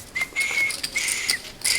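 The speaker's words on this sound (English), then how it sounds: "trying to whistle" A player at a high-stakes no-limit hold'em cash game table attempts a whistle, producing thin, breathy whistled tones in short bursts over quiet room ambience.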